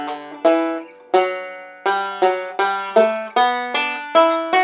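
Banjo plays the opening three measures of Temperance Reel, a run of bright plucked notes, each ringing and decaying before the next. The phrase is steady, close and clear, with no voice.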